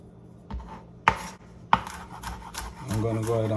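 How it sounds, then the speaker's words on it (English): Knife chopping four peeled garlic cloves on a wooden cutting board: a few sharp, separate knocks, then a quicker run of lighter rhythmic taps, close and clear, with no talking. "Now I'm gonna go ahead and finally chop 4 cloves of garlic."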